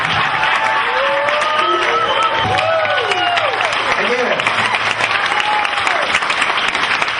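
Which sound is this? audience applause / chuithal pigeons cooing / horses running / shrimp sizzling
audience applause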